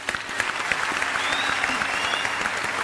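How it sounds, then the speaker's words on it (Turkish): Steady applause in a studio game show of emoji charades, a continuous patter of many hands clapping at moderate level, with faint voices mingled in the background. "Gerçekten Daniel İbrahim'i alkışlıyoruz"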